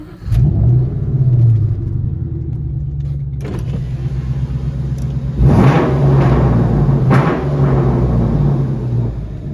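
A Ford Mustang's deep exhaust with MagnaFlow Magnapack mufflers rumbles close by, idling with a low growl and then revving up briefly before settling back.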